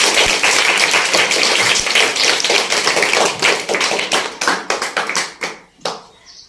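A classroom of students claps together, a dense, steady patter of many hands close by that thins into separate claps and fades at the end.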